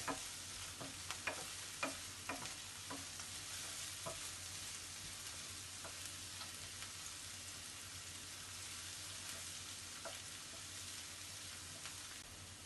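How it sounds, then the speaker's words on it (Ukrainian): Onions frying in a pan for Hungarian-Transcarpathian lecho and being stirred, a steady soft sizzle with several sharp scraping clicks of the utensil early on, then a continuous even crackle, close and fairly quiet with no talking. "Мішую цибульку."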